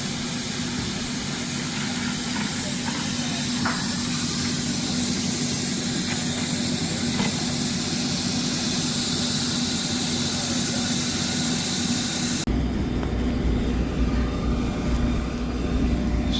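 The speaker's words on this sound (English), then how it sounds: "They got a heat pump here that they set up, and they're basically drying the wall so they can get some good adherence." A heat pump set up in a leaking manhole to dry the wall before lining runs with a loud, continuous mechanical roar and hum, and its tone shifts abruptly near the end.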